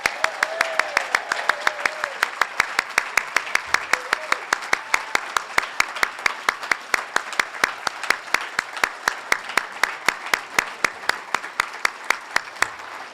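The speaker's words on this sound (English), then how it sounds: "How about one more round of applause for the class of 2019?" An audience at the Michigan Journalism Hall of Fame induction ceremony applauds, sustained and even clapping from a full hall that carries on steadily for more than ten seconds.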